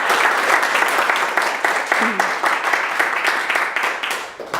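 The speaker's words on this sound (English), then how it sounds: "can we all join in an applause for Sarah?" An audience applauds at the end of a research seminar on accelerating behaviour change, with dense, steady clapping that fades near the end.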